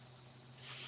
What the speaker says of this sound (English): if it's the cicadas or whatever I'm hearing outside of the locust